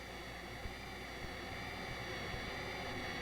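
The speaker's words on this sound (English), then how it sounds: "Let's listen to how this jet noise can be altered when parts of it are filtered or removed." Synthesizer-generated jet noise, a steady broadband roar with a whistling high band that holds constant throughout at a moderate level.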